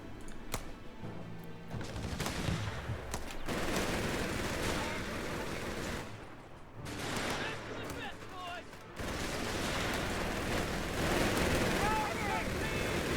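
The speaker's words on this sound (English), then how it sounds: "Reakly's just got these two MG42s working really, really hard." Bursts of MG42 machine gun fire from two guns in the Operation Clash strategy game, loud and sustained rapid gunfire mixed with battle noise and a commentator's voice.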